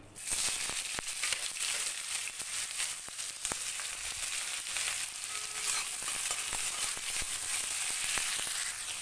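Chopped onions hit hot oil in a pan, already seasoned with sugar and bay leaf, for a red amaranth stalk dish, giving a loud, steady, close sizzle with occasional crackles and spatula taps throughout.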